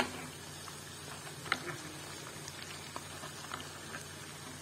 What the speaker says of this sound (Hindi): ये पकौड़े फ्राई हो रहे हैं